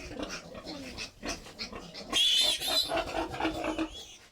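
Piglets on a farm, being given vitamin injections, grunt and snuffle close by in a busy, uneven run of calls, with a louder, shriller squealing burst near the middle.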